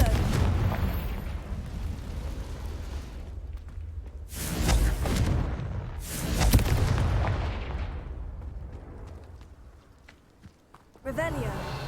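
Confringo fire-blast spell explosions in Hogwarts Legacy, two heavy booming blasts a couple of seconds apart with rumbling tails, amid game ambience and a sharp sound at the end.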